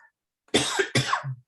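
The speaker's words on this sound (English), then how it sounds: "you didn't think we'd go a segment without me coughing" A man coughs during a sports talk show, two harsh, close coughs in quick succession ending in a brief throat-clearing rasp.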